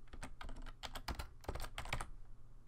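Rapid typing on a computer keyboard while entering a name and description into a database table, with quick irregular clusters of close, crisp key clicks and brief pauses between bursts.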